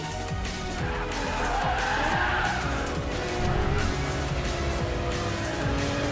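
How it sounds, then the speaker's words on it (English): A Lamborghini Murcielago races in a Racing Master video game replay on the Nurburgring, its engine roaring steadily with tire squeal and skidding throughout, loud and continuous with no talk. "I'm letting the replay go on so that you can watch and see the Murcielago in every nook and cranny angle."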